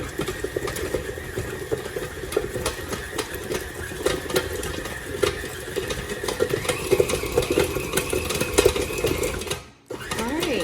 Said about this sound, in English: I'm gonna let it mix for a second before adding any more.